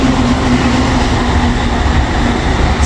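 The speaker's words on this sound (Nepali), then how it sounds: "यस्तो मजाले ट्रेन कुद्छ हेर्नु है त सर" A train in Japan rumbles past at close range, a loud, steady roar of wheels on rails with a sustained tonal whine running through it.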